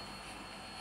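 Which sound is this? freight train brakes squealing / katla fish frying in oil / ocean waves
freight train brakes squealing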